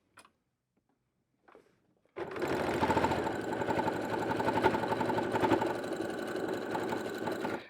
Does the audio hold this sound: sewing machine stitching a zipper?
yes